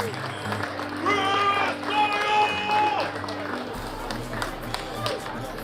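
An audience at a SXSW 2024 live show applauds and cheers as hosts take the stage, a steady wash of clapping with swelling shouts and whoops, under some talk.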